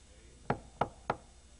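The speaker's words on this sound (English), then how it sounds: "You know why he's knocking like that?" Three firm knocks strike a door at an even, unhurried pace, close and distinct against a quiet background.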